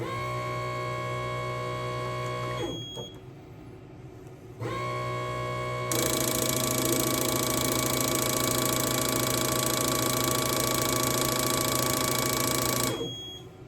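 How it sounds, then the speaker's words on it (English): Ford fuel injectors and rails are primed on a test bench. A steady machine drone with a tonal hum drops out briefly, comes back, then swells into a louder, broader hiss and whir for several seconds before it cuts off. "let's start with priming the injectors and the rails, make sure we're free of air"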